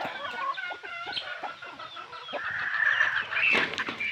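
A gamefowl rooster clucks close by in a run of short, throaty calls that rise into a louder squawk near the end, with no voices.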